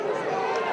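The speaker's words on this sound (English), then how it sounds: "And the crowd's letting it be known how they feel" Outraged football crowd at an A-League match between Canberra United and Western Sydney Wanderers, a dense, steady roar of many voices reacting to a referee's whistle, loud and continuous with no clear breaks.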